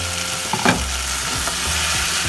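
Chicken pieces fry in a covered pot, giving a steady close sizzle with brief scraping and clattering from stirring, no voices present.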